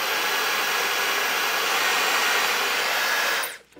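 Dyson Supersonic hair dryer blows on its highest airflow setting, a loud, steady, close whooshing whine that holds evenly for several seconds before being switched off and quickly dying away.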